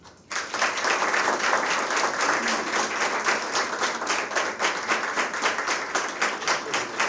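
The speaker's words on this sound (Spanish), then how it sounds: "antes de empezar este conversatorio, un gran aplauso." An audience at a book fair talk (conversatorio) for the Premio Nacional Feria del Libro Eduardo León Jimenes breaks into applause. The clapping is full and steady, starts abruptly after a brief quiet moment, and sustains evenly throughout.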